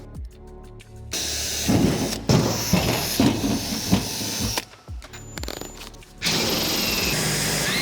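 A jigsaw cuts through a van roof in loud, choppy bursts, its buzzing rising and dropping with short pauses, then settling into a steady harsh whine near the end.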